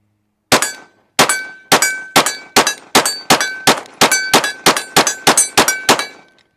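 A Glock 48 pistol fitted with a Radian Ramjet fires about fourteen rapid shots at a steel target 20 yards away, each sharp report followed by a ringing metallic clang, loud and evenly spaced.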